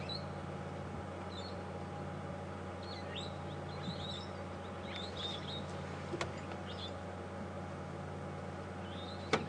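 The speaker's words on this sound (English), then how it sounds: "it certainly sounds like that's where they are. They're small parrots about the size of a dove." Small dove-sized parrots chirping from a marula tree on a safari drive in the bush, their short high calls scattered and fairly distant over a steady low vehicle engine hum.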